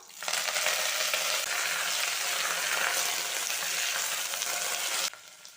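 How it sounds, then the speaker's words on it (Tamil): Thuthuvalai leaves sautéing for rasam in a pan with mustard seeds, urad dal, dried red chillies and curry leaves, giving a loud, steady close sizzle and crackle for about five seconds before it cuts off abruptly. "இலையும் சேர்த்து ஒரு நிமிஷம் போல் வதக்கி விட்டுட்டு"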